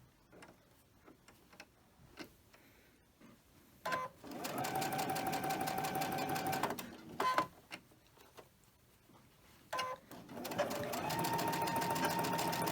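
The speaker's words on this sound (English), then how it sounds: "I'm going to chain stitch them just like before" Sewing machine chain stitching cotton quilt strips together in several bursts of rapid steady stitching, close and clear, separated by quiet pauses with small handling clicks.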